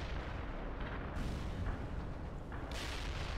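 Artillery fire in the video game World in Conflict, deep booming blasts and rumbling explosions over a continuous battle din, with sharper bursts punctuating the dense low roar.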